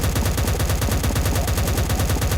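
Rapid automatic gunfire rattles in a shooting video game, a loud, dense and unbroken burst of evenly spaced shots with no talk over it.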